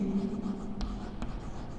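Pen or pencil scratches across paper while a school notice is written out by hand, a couple of brief strokes standing out over a steady low background hum.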